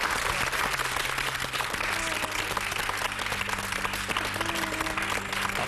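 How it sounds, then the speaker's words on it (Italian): A studio audience on an Italian television show gives sustained applause, thick continuous clapping with a low tonal hum or music underneath, steady from start to finish. "un applauso grosso, grosso, grosso"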